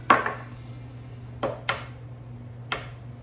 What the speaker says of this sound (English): going to crack one egg into a separate dish